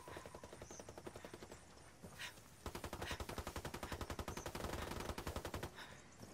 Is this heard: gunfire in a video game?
yes